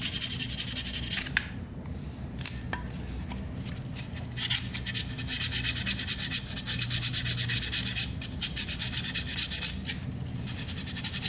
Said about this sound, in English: very lightly sand those. Again, just take off the surface rust on them